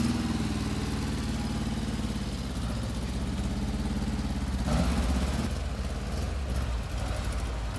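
The engine of a Suzuki Carry camper van runs rough in a repair setting, with a constant, loud, uneven sputtering throb at close range.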